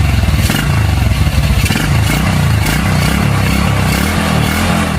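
A motorcycle with an open carburetor revs its exhaust as the throttle is worked after a carburetor adjustment: a loud, close, continuous engine roar with rapid pulsing and rattly clatter, rising and falling repeatedly with no talking.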